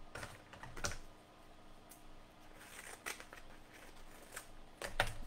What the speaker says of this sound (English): Let me cut off a piece on here.